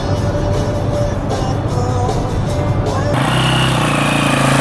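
A first dirt bike's engine runs steadily at close range outdoors, a loud continuous motor drone that shifts to a higher, rougher pitch partway through, with faint voices in the background.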